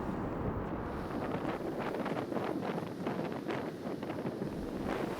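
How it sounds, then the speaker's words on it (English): Strong wind buffets the microphone on a steep, snowy hillside at Tinto in worsening weather, a continuous loud roaring rush with no break. "The weather was deteriorating and the wind was picking up strength."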